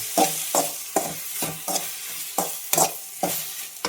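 Okra stir-fried with a little curd in a pan, with a ladle scraping and tossing in a steady rhythm of about eight strokes over a soft continuous sizzle, close and alone.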